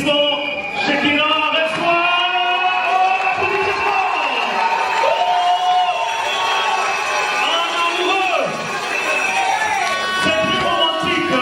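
Wedding guests at an evening reception cheer and shout in a loud, lively crowd roar that swells and dips over several seconds, mixed with prominent voices.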